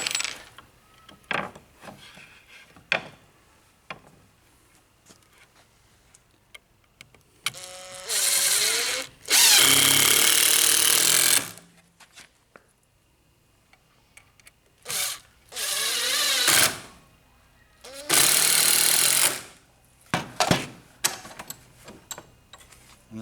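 A power drill drives .65mm screws into a wooden trebuchet base held in a vise, several loud whirring bursts of a few seconds each, separated by quiet handling clicks and knocks.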